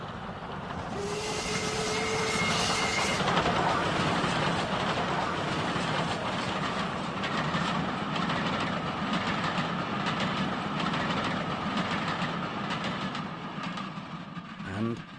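Steam locomotive trains pass on a railway, with a loud hiss of steam at first, then a sustained rumble and rhythmic clatter of wheels over the rails, fading slightly toward the end.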